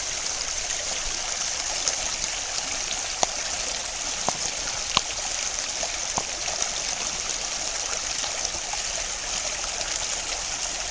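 A small, low creek near old Chinese mining tailings flows steadily, a soft continuous rushing hiss with a few faint ticks, heard alone without talk.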